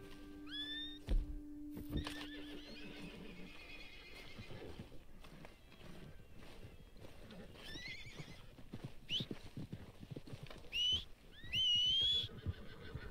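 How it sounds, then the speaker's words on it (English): Horses neighing and whinnying in the video game Red Dead Redemption 2, several rising calls close by over steady hoof clip-clop and game ambience, with louder whinnies bunched near the end. "Those are nice horses, man."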